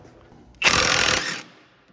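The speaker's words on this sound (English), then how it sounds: "Okay, 17 millimeter bolt and nut. So I'm gonna go grab a wrench." A ratchet wrench works a 17 mm bolt and nut on the lower ball joint of a 2003-2007 Honda Accord, giving one short, dense burst of clicking close up before it fades to quiet.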